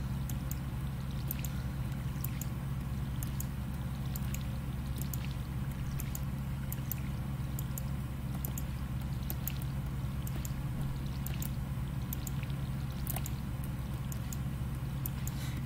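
A watering can pours onto crops in a farming video game, a steady soft trickling wash with faint clicks and ticks scattered over it and no voices.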